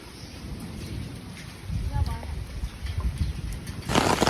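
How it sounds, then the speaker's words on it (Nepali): Heavy rain hisses steadily across the whole stretch in Dharan, Nepal, growing denser and louder toward the end, with a faint bird call somewhere in the background. "यस्तो पानी परेको छ बाफ्रे"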